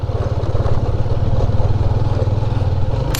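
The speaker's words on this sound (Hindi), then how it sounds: "ये जो साइड पे नज़र आए ना गोल गोल पत्थर छोटे, ये डाले हुए हैं तो उनके ऊपर बाइक उछल रही है फुल।" A motorcycle bounces over small round stones scattered on an unpaved mountain track, its engine throbbing loudly and steadily close to the microphone, with a rattling clatter over the top.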